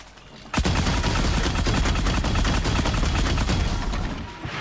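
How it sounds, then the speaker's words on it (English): Rapid bursts of weapon fire from a mine launcher in the video game Horizon Zero Dawn, a sudden loud onset followed by dense, continuous crackling blasts throughout. "Mine launcher, there we go."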